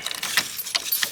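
Keys to a Cherokee XJ jangle up close in a few quick, bright metallic shakes, loud and clear with no voices.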